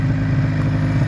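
An old snowmobile engine that sat ten years in a storage container idles steadily at around 1500–1600 rpm, a continuous low, even rumble with a faint clatter, close and alone without talk.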